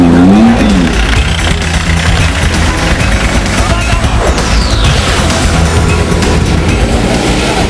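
Off-road rally cars at a motocross event in Akluj, Solapur, run over a rough dirt track, their engines a loud continuous roar with revving surges and rumbling thumps throughout.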